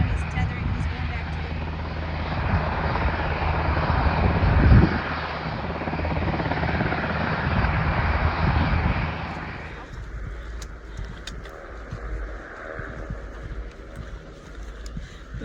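Helicopter flying above a hiking trail near Silverwood Lake, its rotor drone steady and moderately loud for about ten seconds before receding, with people talking throughout.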